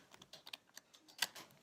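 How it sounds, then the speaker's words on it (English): Tarot cards are shuffled by hand, giving faint, quick, crisp flicks and taps in an uneven patter, close by in a quiet room. "So we'll just give the cards a good shuffle"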